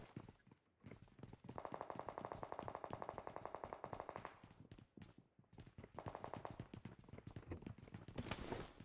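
Gunfire in PUBG Mobile, played on PC, with a shotgun: loud rapid bursts of repeated shots across most of the stretch, pausing briefly, then more firing and a sharp blast near the end.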